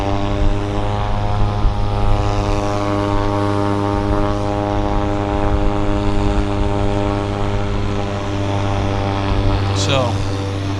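A propeller aircraft, a North Caribou, departing Vancouver Airport (YVR), its steady loud engine drone with strong harmonic hum holding close throughout, briefly joined near the end by a higher whine.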